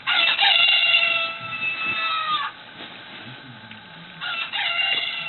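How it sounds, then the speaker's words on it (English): A noisy chicken lets out two bursts of loud, strained crowing separated by a quieter pause with faint clucking, close to the listener and slightly tinny. "a noisy chicken"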